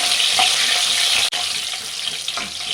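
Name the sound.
bay leaves and green chillies frying in hot oil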